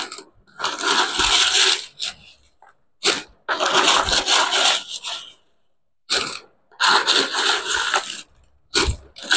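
Homemade pisang tanduk banana chips are packed into a plastic bag in repeated bursts of crinkly rustling and crunchy clatter, broken by short silent pauses.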